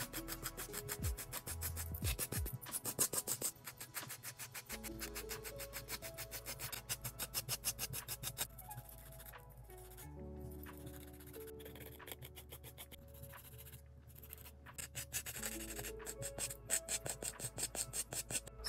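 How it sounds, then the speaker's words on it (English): An 80 grit nail file rasps back and forth across fingernails being shaped for polygel nails, a close, continuous gritty scratching in quick regular strokes with no voices. "now I'm just going to shape them up very slightly using my 80-80 grit nail file."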